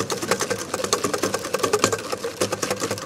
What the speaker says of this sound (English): I'm kind of whisking in some air.